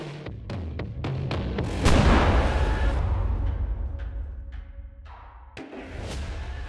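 An overloaded muzzleloader fires in a test device with a deep, loud boom and a rolling echo, then clanks and rattles follow as the echo fades, with a sharp knock near the end.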